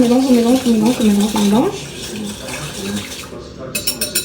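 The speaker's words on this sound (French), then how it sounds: "Et on mélange bien." A spoon scrapes and clinks around a bowl while a mixture with cane sugar is stirred, a rapid run of rhythmic scraping, then quieter rustling and a few sharp taps at the end.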